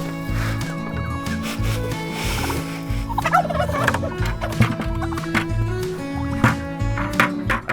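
Turkeys gobble at feeding time in a loud, repeated chorus of rapid, rattling calls close by, overlapping and continuing throughout over a low background hum.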